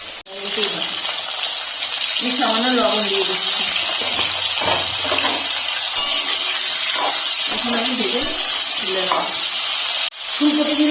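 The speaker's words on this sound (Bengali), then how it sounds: "ফুলকপি ফুলকপি ভাজা তেলে" Cauliflower florets frying in hot oil for a vegetarian festive-style cauliflower dish, a steady sizzle running throughout with occasional stirring clinks, while someone talks over it.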